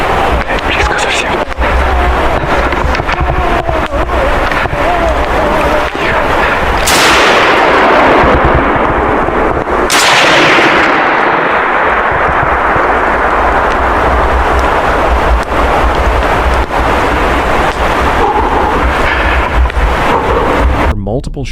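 Gunfire in a forest: two sharp, loud cracks ring out several seconds apart over steady wind rumble and low background noise, with faint voices in the mix.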